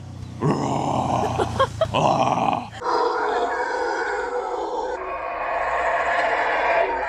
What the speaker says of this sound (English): This is actually apparently called howling monkey because they're one of the loudest animals in Colombia